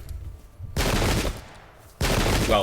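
Musket volleys in an English Civil War battle game at Bristol, two loud, dense bursts of crackling gunfire, the second following a short pause after the first, with faint background rumble between.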